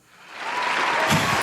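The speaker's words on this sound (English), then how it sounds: "Where's my round of applause? There it is." Round-of-applause sound effect played on a podcast, swelling quickly from quiet into a full, even wash of crowd clapping.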